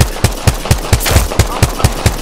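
Automatic gunfire in a first-person shooter video game, a steady run of about ten sharp, evenly spaced close shots, loud and punchy with no talking over it.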